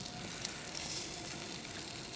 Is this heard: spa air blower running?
no